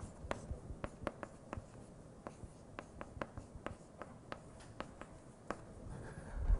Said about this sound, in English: I write back what I had before.